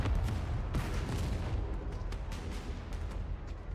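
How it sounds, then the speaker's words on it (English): A loud explosion in the game Goddess of Victory Nikke starts with a deep, booming rumble and keeps crackling and rolling like gunfire and debris as it slowly fades, with no one speaking. "An explosion rings out, causing the surroundings to shake."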